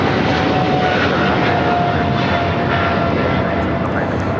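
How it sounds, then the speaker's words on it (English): China Airlines Cargo Boeing 777 freighter, flight 5137 bound for Taipei, taking off at LAX: a loud, steady jet roar that holds without a break throughout. "5137 taking off to Taipei on the 777 freighter"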